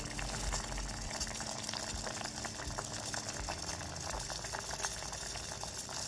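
Continuous low bubbling and rumbling of a pot of beetroot simmering in water on the stove, steady and even throughout with no voices.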